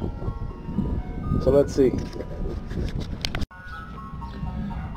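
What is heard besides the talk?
ice cream truck jingle passing by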